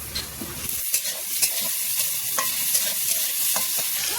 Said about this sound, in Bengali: এদিকে দেখো কড়াইতে তেলের উপরে আলুটা ভেজে দিচ্ছি